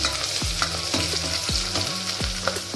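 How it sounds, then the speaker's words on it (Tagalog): Garlic, onion and ginger sautéing in a pan, a steady close sizzle with rhythmic scraping strokes of a spatula about every half second. "inigisa ko na bawang, sibuyas, luya, bango"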